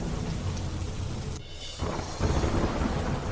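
Heavy monsoon rain in Gujarat lashes down with strong wind as a loud, broad roar, briefly dipping before surging back heavier, with thunder rumbling low underneath.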